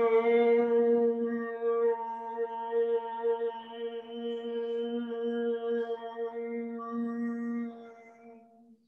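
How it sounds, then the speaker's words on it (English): Bhramari pranayama breathing: a long, steady, low humming exhalation that holds one buzzing pitch for several seconds, close and even in loudness, with no other sounds. "breathe out to the sound of a Bhramri Pranayam"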